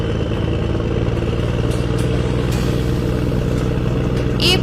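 A motorbike engine in an animated cartoon where a fox and a tiger ride through the jungle: a loud, steady, rumbling drone that holds unbroken throughout.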